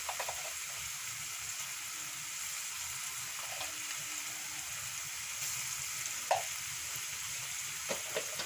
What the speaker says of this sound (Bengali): এগুলো দিয়ে ভালো করে কষিয়ে নেব।